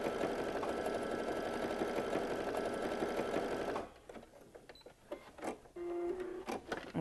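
A sewing machine stitches a small wristlet key fob in a fast, steady mechanical whir, then stops and gives a few shorter bursts of back-stitching mixed with handling clicks.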